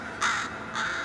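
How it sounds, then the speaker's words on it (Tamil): A crow caws twice, two harsh, evenly spaced calls standing out close and loud over a quiet background, with no voices. "இப்ப காக்கா கத்துன சத்தம்."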